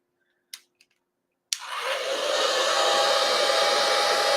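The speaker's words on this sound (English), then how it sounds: "I'm going to use the blow dryer, and you want it on a cool setting." Blow dryer on a low cool setting switches on with a click after a couple of faint taps, then runs as a steady, fairly loud whooshing hum until the end.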